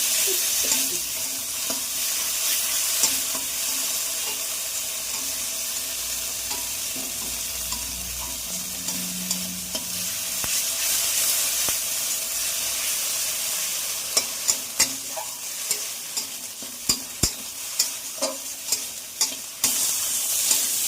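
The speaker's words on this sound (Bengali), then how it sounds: "এবার তেলের উপর দিয়ে দেবো।" Ghatkol leaves with turmeric sizzling in oil in a kadai give a steady hiss, and in the later part repeated sharp scrapes and taps of a spoon stirring against the pan.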